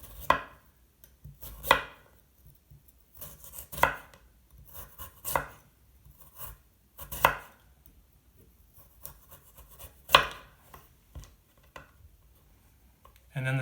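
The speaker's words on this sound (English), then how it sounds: "So for the julienne, just trim my carrot down here a little bit." A knife slices a trimmed carrot into very thin julienne slices on a cutting board, giving a series of crisp, close chopping thuds at an uneven, unhurried pace with quiet pauses between strokes.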